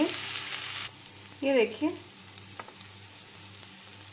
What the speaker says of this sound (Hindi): अब मैंने अपने आलू डाल दिए हैं उबले हुए। अब इसको मिक्स कर लेंगे।